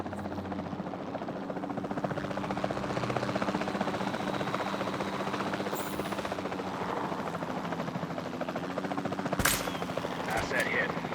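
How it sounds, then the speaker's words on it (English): Capture team helicopter in the game Jurassic World Evolution 2, with a continuous rotor throb running throughout and bursts of gunfire-like tranquilizer shots, plus a sharp hit near the end. "Then the sensible thing is to take a capture team helicopter."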